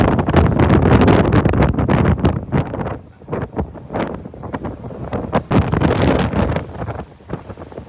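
Loud, gusty wind roars across the microphone aboard the Manly ferry in Sydney, with wave chop and boat noise beneath, rising in buffeting bursts and then easing off briefly.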